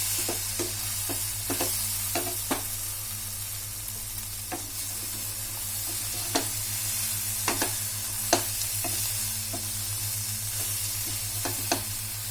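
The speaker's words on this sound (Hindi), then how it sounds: "इसको बीच में चलाना जरूरी है, नहीं तो सब्जी तले में लग सकती है।" Onion and okra sabji sizzles steadily in a hot pan while a spoon scrapes and stirs it at intervals, giving sharp clinks over a constant frying hiss, close up with no talking.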